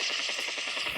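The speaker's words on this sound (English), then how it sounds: "Yes, helicopter's here." Helicopter arriving in a video game, a steady rhythmic rotor chop with a bright whine on top, moderately loud and continuous with no talk.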